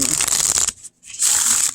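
A new Inside Edition deck of playing cards being shuffled close up: two bursts of crisp riffling with a brief pause between them.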